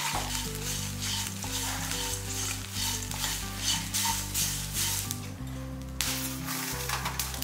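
Curry leaves and spices frying in a pan for a black urad dal and sesame powder, a dense steady crackle and sizzle up close, with a low droning hum underneath and no speech.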